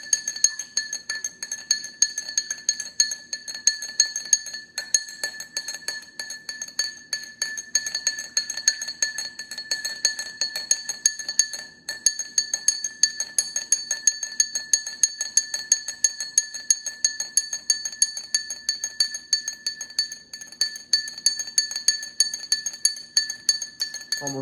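A spoon clinks steadily against the sides of a glass while stirring sugar into cold water, producing a continuous, rapid, ringing tinkle that carries on without pause for the whole stretch.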